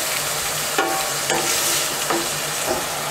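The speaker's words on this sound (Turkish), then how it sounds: "Kavrulan kıymanın üzerine şöyle yarım çay bardağından daha da az sıvı yağ" Browned minced meat sizzles in a pan with a little vegetable oil added, a steady close frying hiss broken by several sharp stirring scrapes.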